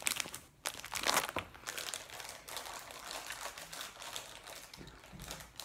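A plastic snack bag from a Pakistani snack box is crinkled and pulled open, giving close, sharp crackling bursts early on, then softer continuous rustling and crumpling.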